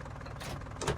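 A tractor engine from Farming Simulator 19 rumbles at a low, steady idle with a slight knocking pulse, loud and close, over one brief moment with no talk.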